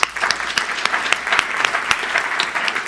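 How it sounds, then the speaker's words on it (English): Audience applauding panelists at a Cuyahoga County budget forum, a dense wash of many hands clapping with sharp individual claps standing out, loud and continuous for the whole stretch. "let's give a round of applause for our panelists"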